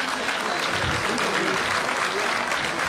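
A village crowd in Khatkar applauds to welcome Congress leader Jaiprakash (JP), a dense, continuous roar of clapping at steady loudness for the whole stretch with a faint murmur of voices beneath.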